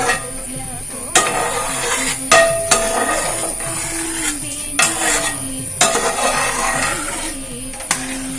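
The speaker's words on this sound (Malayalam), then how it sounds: "അരിക്കൊക്കെ ഒന്ന് നമുക്ക് ഇളക്കി കൊടുക്കാം" Rice stirred in a pot for palada payasam, a sweet Kerala milk pudding, with a spoon scraping and clinking against the metal in irregular knocks over a low, steady cooking hum. Nobody talks.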